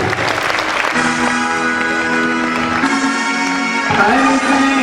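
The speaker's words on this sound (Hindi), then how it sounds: "बजाइए आप इन सभी के सम्मान में जोरदार तालियां" Loud, sustained audience applause at a Jain Chaturmas Kalash Sthapna ceremony in Kishangarh, continuous clapping over steady sustained musical tones.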